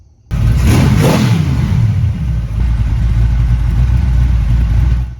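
A rebuilt 350 V8 engine runs loud and close on a go-kart, firing up abruptly with a quick rev and then settling into a heavy, rumbling idle.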